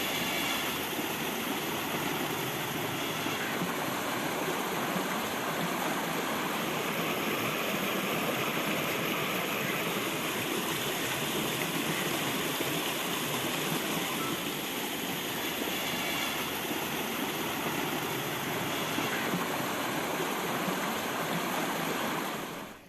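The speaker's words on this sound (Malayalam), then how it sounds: "കനത്ത മഴയിൽ തോട് ഗതിമാറി ഒഴുകുകയാണ്." Rushing water from a stream that has changed course during heavy rain in Pattambi, Kerala, roars as a steady, dense broadband wash for the whole stretch, loud and continuous with no voices.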